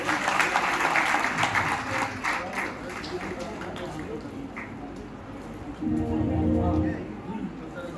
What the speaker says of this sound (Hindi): एक बार दोबारा फिर ताली बजा दो बोलो जी के लिए